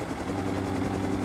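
Minicopter helicopter from the Rust video game, a continuous close, loud rotor and engine drone with steady low pulsing throughout and no talk over it.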